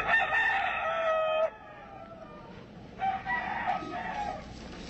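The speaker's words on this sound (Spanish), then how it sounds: "Bonito mi gallo Giro." Rooster crowing loudly nearby on a ranch, two distinct drawn-out calls separated by a short pause, with a quiet background and no talk.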